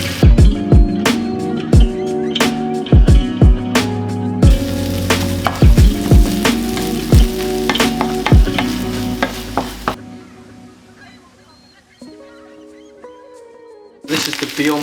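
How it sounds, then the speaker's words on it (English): Beyond Mince vegan ground beef fries in a pan with a steady loud sizzle, broken up by frequent sharp scraping and tapping strokes as a utensil mashes and stirs the meat; the stirring stops near the end while the sizzling carries on. "going to mash it up as it cooks, just like the others"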